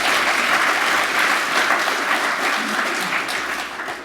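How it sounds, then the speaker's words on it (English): An audience at a biodiversity and predator-control talk gives a big, dense round of applause for the sanctuaries, loud and sustained, then tapering slightly at the end. "you did want a big round of applause as well for all of the sanctuaries"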